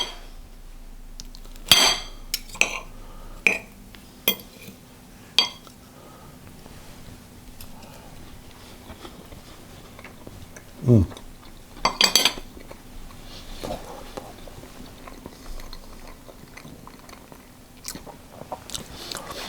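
Cutlery clinks and scrapes against a plate while a minced steak pie is eaten, with scattered sharp clicks and soft bites or chewing in a quiet room, the sounds close and intermittent.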